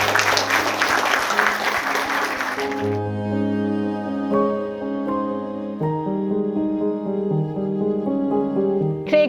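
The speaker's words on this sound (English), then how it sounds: "That surely deserves a round of applause." Loud applause from a wedding crowd after the vows for about three seconds, then fading out as gentle music with sustained tones takes over.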